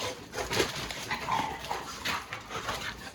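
A Rottweiler puppy whimpers and yips softly in short, faint, high whines, with some shuffling and panting among a group of animals nearby.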